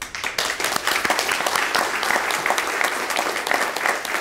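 Sustained applause from an audience at a Veterans Day ceremony, dense steady clapping carrying on for several seconds without pause.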